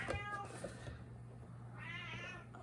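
A cat meows loudly twice, clear and close, in an otherwise quiet indoor room.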